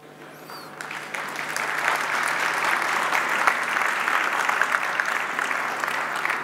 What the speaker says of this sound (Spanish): Qué bueno que te aplaudan